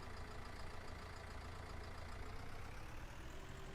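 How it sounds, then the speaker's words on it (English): A small diesel tractor in Farming Simulator 19 runs steadily, a constant low engine drone with a slightly propane-like hum, holding an even level throughout with no talk. "this is probably my favorite sounding tractor of the small tractors. It sounds propane, but I know it's a diesel."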